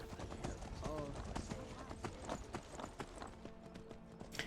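Horse hooves galloping in the Skyrim video game, with a fast, steady clip-clop rhythm throughout under someone talking.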